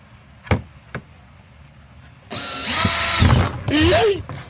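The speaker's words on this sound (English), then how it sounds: "But I'm gonna start drilling these holes." Electric drill boring holes through a plastic swamp cooler bucket: a couple of sharp knocks, then a steady loud whirring drill burst lasting a couple of seconds with rising pitch toward the end.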